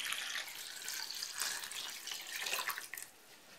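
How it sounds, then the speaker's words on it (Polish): Water poured from a tap into a pot of sliced vegetables for a pickling brine, a steady near splashing stream that fills the clip and cuts off sharply at the end. "Zalewam wodą."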